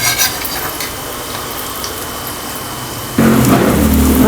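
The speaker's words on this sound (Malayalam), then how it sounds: "തിരിച്ച് മറിച്ചു വിട്ട് നമുക്ക് വറുത്തെടുക്കാം." A spicy ragi flour snack fries in oil with a steady close sizzle and bubbling, and a deeper, louder crackle takes over partway through.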